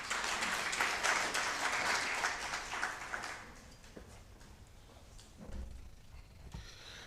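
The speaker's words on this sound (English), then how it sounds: "Give her another round of applause, please." Audience applause at an African women theologians' conference, loud and dense at first, then thinning and fading to scattered claps and room noise.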